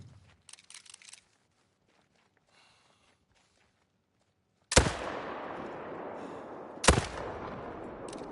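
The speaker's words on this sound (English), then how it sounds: "So we'll shoot him out of the tripod." A rifle from a hunting video game fires twice at a whitetail deer, two sharp, loud cracks a couple of seconds apart, each trailing off into a rumbling echo after near silence.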